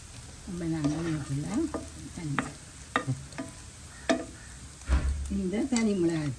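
Garlic fries in oil until golden, giving a soft sizzle with occasional stirring while a person talks over it.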